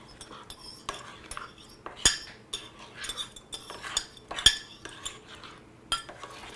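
Lightly beaten eggs stirred into a mixture in a bowl, a continuous scraping swirl punctuated by frequent clinks and a few sharper taps of a utensil on the bowl's rim, close and moderately loud.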